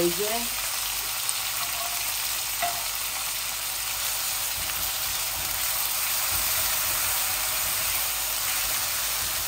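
Frozen chopped onion sizzling and frying steadily in a hot pan for a home-style Bangladeshi chicken and potato curry, a continuous close hiss with occasional stirring and no talk.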